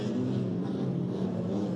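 A race car on a track drones past with a steady, fairly loud engine roar, no speech over it.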